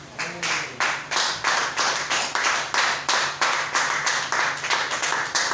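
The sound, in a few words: church congregation clapping in acclamation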